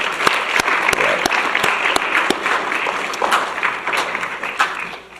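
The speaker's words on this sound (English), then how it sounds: "Let's have one more round of applause for our ECAB members." A crowd at a teacher appreciation night applauds steadily, dense clapping filling the room for several seconds and tapering slightly at the end.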